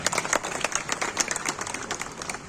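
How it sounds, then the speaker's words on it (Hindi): Applause from an audience at a Holi-special shayari poetry gathering, a short burst of distinct handclaps, fairly close and uneven in rhythm, with no talking over it. "एक बार तालियां बजाइए"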